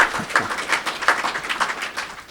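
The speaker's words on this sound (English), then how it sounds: "Don't clap yet." An audience at a speaking event breaks into scattered clapping, irregular hand claps in a moderate-sized room with no voices over them.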